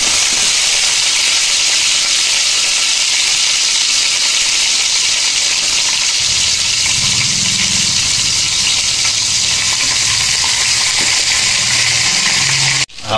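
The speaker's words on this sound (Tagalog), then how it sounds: "I-prito natin ng konti yung yung spare ribs." Marinated spare ribs fry in a pan with a steady, loud sizzling hiss that runs throughout, a lower bubbling crackle joining partway through.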